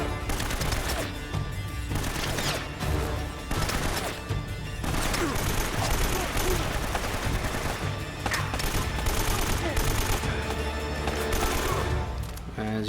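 Sustained AK-47 gunfire in Uncharted: Drake's Fortune cover-based combat, dense rapid bursts running the whole stretch, loud and busy with crashes mixed in.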